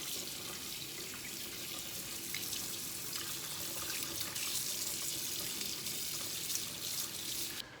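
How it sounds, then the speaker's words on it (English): Cold tap water runs steadily over smoked wild-caught Alaskan salmon fillets as the brine is rinsed off in a sink, a continuous close hiss of splashing water with no voices. "give them a rinse in some cold water."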